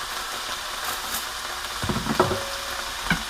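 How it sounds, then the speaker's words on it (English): Onions dropped into a chili pot sizzle and crackle, with the hiss rising sharply midway and a few stirring clatters after, close and moderately loud. "I'm going to add my onions."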